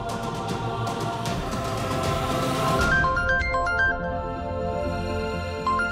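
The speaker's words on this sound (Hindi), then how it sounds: "गर्वजी का फोन?" A phone ringtone plays a bright electronic melody, repeating tones over a busy background, loud and close with no talking.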